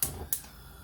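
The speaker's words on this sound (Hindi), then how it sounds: "गैस की फ्लेम में ऑन कर दूंगी," Two sharp clicks of a gas stove igniter, close and quick, followed by a faint hiss, while cooking spinach and meat.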